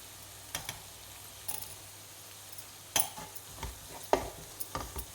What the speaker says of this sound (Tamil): இப்போ வெங்காயம் இந்த அளவுக்கு வதங்கினா போதும். நல்லா வதங்கிருக்கு பாருங்கள்.